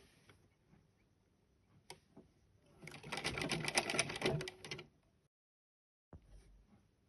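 A sewing machine stitches hijab fabric in one steady, fairly loud burst of about two seconds, with quiet handling of the cloth before and after and a short pause of silence near the end.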